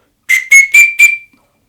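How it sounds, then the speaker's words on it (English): Variable-note whistle carved from a carrot, blown in four short clear tones in quick succession, each a bright pure pitch with slight shifts, loud and close with nothing else heard. "the second one is a variable note whistle, and as you move this in and out, you can change the pitch"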